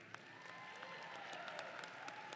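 A graduation audience at Albright College gives a round of applause, heard as a soft, even patter of many hands clapping at a distance for a couple of seconds, with no voices over it.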